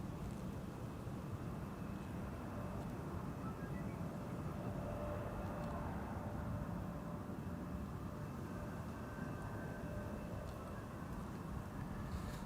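A Canadian-registered Dash 8-100 turboprop, about 38 years old, drones faintly in the distance while climbing out westward on a coastal patrol, a low steady hum with no voices.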